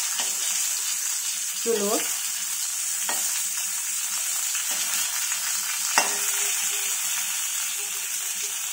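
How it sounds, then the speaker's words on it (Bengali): Katla fish belly pieces fry in a little oil in a kadai over low heat, giving a steady, even sizzle throughout, with a brief spoken word and a faint scrape of the spatula. "কম তেলের জন্য একটা করে পেটি এইভাবে ভাজবো"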